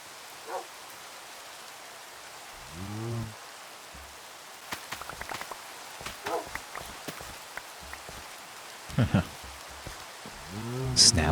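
Heavy rain in Minecraft, a steady faint hiss running throughout, with scattered sharp clicks and taps and a few short low animal sounds near the start and end; no talking.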